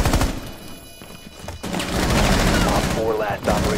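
Gunfire in the tactical shooter Rainbow Six Siege: loud, dense bursts of shots in rapid succession that run through most of the stretch, with a player's voice talking over the shooting near the end.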